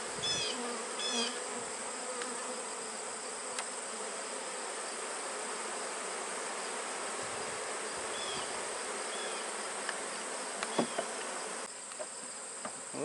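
A honeybee swarm fills the air with a continuous, even buzzing drone, many insects humming close and far at once, with a few louder individual bees passing near the listener.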